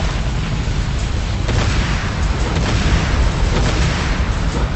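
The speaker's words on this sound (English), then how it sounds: "SAM site Rocket destroyed." A SAM site explodes in the Renegade war game, a loud sustained rumbling blast with crackling bursts and booms rolling through the whole stretch.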